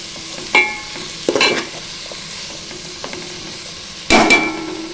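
A ladle scraping through a bitter gourd and tomato curry in a pan, three distinct stirring strokes over a soft steady sizzle, close and alone.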